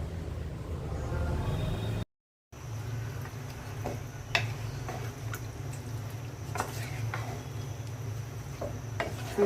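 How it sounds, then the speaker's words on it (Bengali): Meat and spices are stirred in a cooking pot over a steady low sizzle, with scattered scraping clicks of a spoon against the metal, broken by a brief gap of silence. "মশলাটা ভালো করে মিক্সড করে নিচ্ছি।"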